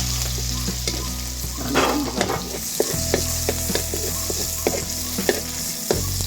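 Adobong paiga with garlic and onion sizzles in hot oil over a wood fire in the province, with a steady frying hiss broken by repeated scraping stirs and clinks of a utensil in the pan.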